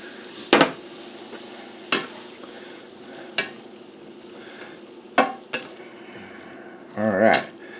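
Fried rice with soy sauce sizzling softly in a pan, punctuated by several sharp clanks of a utensil scraping and tapping the metal at irregular intervals, ending with a brief louder burst of sizzle and clatter.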